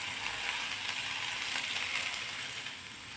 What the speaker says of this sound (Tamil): இப்போ இதையே நம்ம நல்லா வதக்கி எடுத்துக்கலாங்க